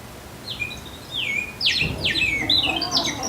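A water-filled bird whistle toy warbles in bright, rapid chirping trills, several quick rising and falling tweets in succession, growing busier and louder toward the end.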